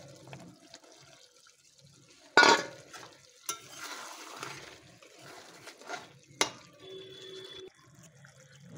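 Papaya pieces tipped into a pot of cooking mutton curry and stirred, with a couple of sharp clatters and scraping among soft wet stirring sounds in a quiet kitchen.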